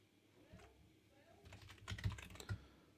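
Quick clattering keystrokes on a computer keyboard come in a short burst, close but fairly soft, alongside quiet speech.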